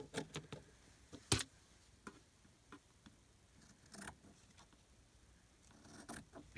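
Scissors cut strips from fabric in a quiet room, giving sparse crisp snips and rustles, a few sharper louder clicks scattered among faint handling noises.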